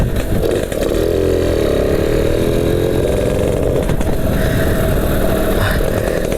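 A Yamaha Alfa motorcycle with a CDI unit, riding with a loud, steady engine drone and slight pitch changes, close up with no voices.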